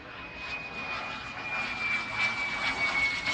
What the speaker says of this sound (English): Sounds like a jet engine. Yep, there it is, a model jet aeroplane.